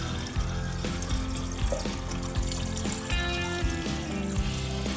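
Water runs steadily from a Kangen water machine, a continuous pouring stream with faint clinks and background noise, no talking.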